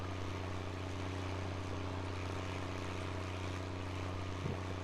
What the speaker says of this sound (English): See how the tractor handles with this load behind it.